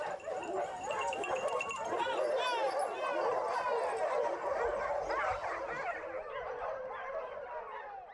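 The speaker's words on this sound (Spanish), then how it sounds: "El salto de los perros a la mancha indica el inicio oficial de la montería." A pack of hunting hounds (podencos, beagles and other hunting dogs) barks, yips and whines in a dense, continuous chorus as the dogs are released into the scrub at the start of a boar hunt.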